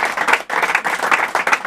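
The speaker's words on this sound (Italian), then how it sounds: "allora facciamo un applauso al maestro" Audience applauding jazz drummer Roberto Gatto, a dense, steady burst of many hands clapping at close range, with a brief dip partway through before the clapping surges again.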